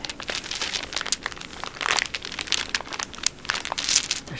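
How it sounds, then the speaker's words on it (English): A dice bag of plastic and velvet containers holding loose dice is handled close up, giving a continuous soft crinkling and rustling with small irregular crackles and no talk. "There's so many different sounds between all the different, like, containers, like, bags that are inside holding the dice."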